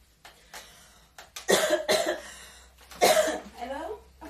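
A person coughs into a tissue, two or three fairly quiet, close coughs with some throat sounds and soft voices in the background.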